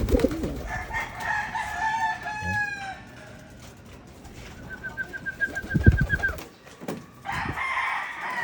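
Pigeons kept as racing birds coo and call in a loft, with other fowl-like calls mixed in, several overlapping bird voices rising and falling over steady background noise.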